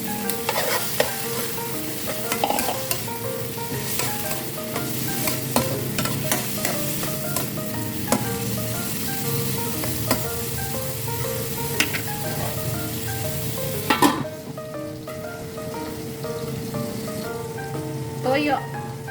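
Garlic sautéing in a pan for ginisang upo, a loud steady sizzle with frequent stirring clatter and scraping that drops away briefly near the end.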